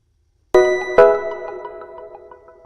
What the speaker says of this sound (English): I need to make sure the notification sound is working